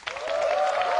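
A live talk-show audience gives a speaker warm, enthusiastic applause, a dense steady wash of many hands clapping that holds at full strength for the whole second.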